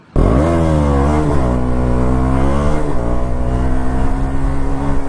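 KTM Duke 200 motorcycle revving hard for a wheelie, loud and close, engine pitch climbing in repeated surges with shifts around the middle, sustained throughout with no talk.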